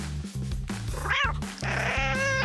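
Kittens meow in a quick series of short, bright, strained cries, close up over a low humming drone.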